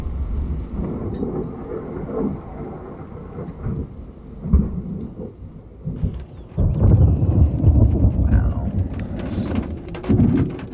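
Rain pours steadily while deep thunder rolls and rumbles in repeated swells, loud and close, with gusty wind noise on the microphone.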